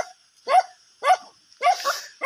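Dogs bark three times outdoors at a home in the Philippines, sharp, close and loud, each bark separated by about half a second of quiet.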